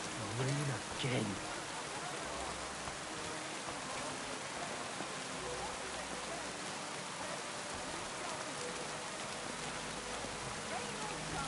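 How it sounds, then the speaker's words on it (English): Steady rain falls in the medieval setting of Kingdom Come: Deliverance II, a dense, even hiss throughout, with a brief voice near the start before the downpour continues alone. "Come on, rain again."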